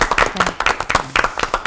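A brief burst of warm applause from a studio audience on a Korean television broadcast, many hands clapping together loudly and closely for under two seconds.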